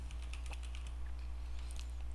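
Quick keystrokes on a computer keyboard while entering a router command, a short run of light clicks over a steady low electrical hum.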